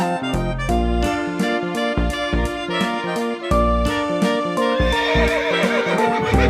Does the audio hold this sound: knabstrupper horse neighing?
yes